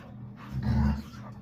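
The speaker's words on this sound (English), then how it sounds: "Currently we have the dogs playing in the back." Dogs playing somewhere out back, heard as a brief, low woof or growl that swells and fades over about a second, muffled and moderately close.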